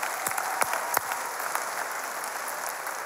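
Clapping from a gathered audience of students, a steady wash of applause with a few sharp, distinct claps standing out near the start, moderately distant.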